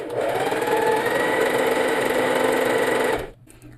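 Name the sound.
Singer 4423 sewing machine stitching double zigzag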